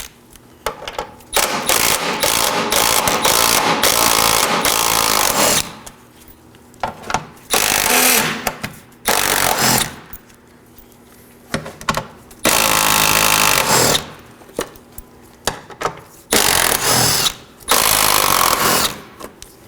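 A power tool backing out five 10mm bolts from the engine splash shield of a 2013-2019 Nissan Sentra, loud whirring bursts of a few seconds each separated by short pauses, close up.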